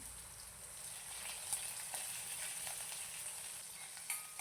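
Steady crackling sizzle of mustard seeds and cumin frying in hot oil, with a few sharper pops standing out from the constant hiss.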